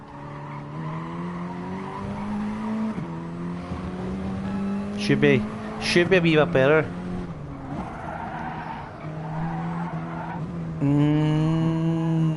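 Video game racing cars roar and whine steadily with engine pitch changes and a brief tire screech, while someone talks over them throughout.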